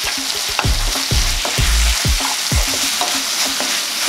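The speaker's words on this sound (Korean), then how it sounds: "김치 넣어서 같이 볶아주겠습니다" Kimchi stir-fried in a pan after soy sauce, sizzling steadily while a utensil scrapes and tosses it in repeated close strokes, with no voices.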